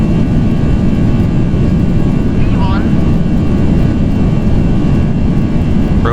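Jet airliner engines roar at takeoff thrust during a departure from Taiwan Taoyuan International Airport, a loud, continuous broadband rumble heard from inside the aircraft, with a brief faint squeak partway through.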